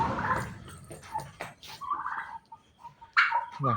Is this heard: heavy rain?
no